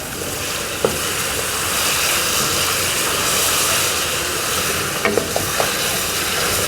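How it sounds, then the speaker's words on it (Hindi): Meat for Kabuli pulao fries in a pot with a loud, continuous sizzle, and a few sharp metal clinks from stirring come through near the start and again toward the end. "गोश्त को हम भून रहे थे"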